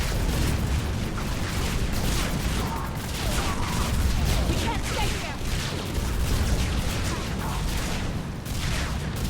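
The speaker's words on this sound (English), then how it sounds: "So many explosions." Battle noise from Mass Effect 3: continuous heavy explosions and rapid gunfire crowd together into a loud, dense roar that never lets up, with a voice faintly heard in the mix.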